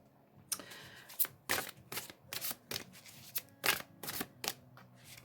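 Tarot cards are shuffled and riffled close by in a series of quick, crisp bursts, each a papery flutter separated by short pauses, fairly quiet and with no talk.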